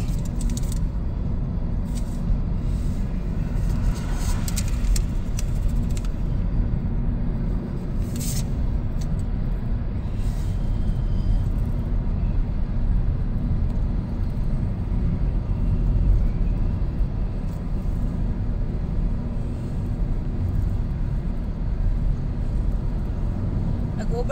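Cars overtake on an autumn road in cold weather, a steady broadband engine and tire rumble holding throughout with a few brief passing swells, heard from inside a slowly driven vehicle.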